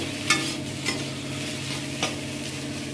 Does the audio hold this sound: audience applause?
no